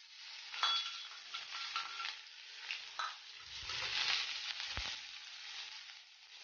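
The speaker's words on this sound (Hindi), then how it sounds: "तेल गर्म हो गया, प्याज डाल देंगे।" Onions sizzling in hot oil in a pan, a steady crackling hiss with stirring scrapes and a low thump, close and alone without talk.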